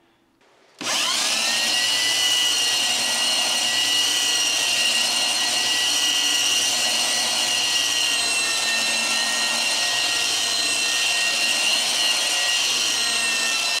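A 1970s German-made Bosch 1270 4x24 belt sander starts up and runs steadily, a loud sustained whine with a dense buzzing hum that holds unchanged for over ten seconds.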